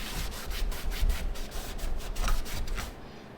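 Cloth rubbing over sun-faded black trim on a Mustang GT500, wiping it down with non-chlorinated brake cleaner: steady close scrubbing strokes in a soft repeating rhythm, with no voices.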